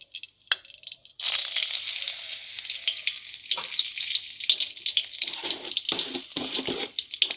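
Cardamom pods, cloves and a little cinnamon frying in oil with a spoonful of ghee, starting with a few quiet clicks, then bursting into a loud, continuous sizzle with crackles and pops that lasts to the end.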